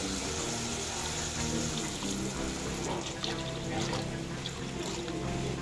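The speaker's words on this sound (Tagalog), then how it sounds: "Lagyan na natin siya ng konting tubig, ng tubig." Water is poured into a cooking pan of Bicol-style pancit noodles, a steady, continuous splash and hiss that is moderately loud and unbroken for several seconds.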